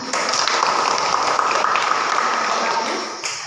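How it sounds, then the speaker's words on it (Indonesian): Students in an English lesson break into brief applause, a short burst of dense classroom clapping lasting about three seconds before tapering off. "Tepuk tangan"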